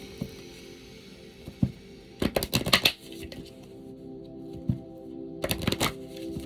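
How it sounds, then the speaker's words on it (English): A deck of tarot cards is shuffled in two quick, crisp bursts of riffling clatter, close and fairly quiet over a faint room hum, with scattered soft taps between. "I swear it feels like I'm shuffling like 6 cards."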